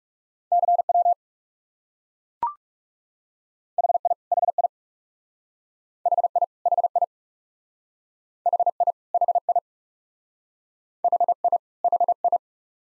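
Morse code CW tones sent at 30 words per minute, steady mid-pitched beeps in short clustered bursts separated by gaps, with one brief click partway through.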